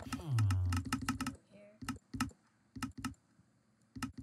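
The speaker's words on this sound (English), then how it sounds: "I have very loud mouse and very loud typing." Loud computer keyboard typing with mouse clicks during a Minecraft session, a burst of rapid clacking keys followed by irregular clusters of sharp clicks, close and prominent, with brief talk near the start.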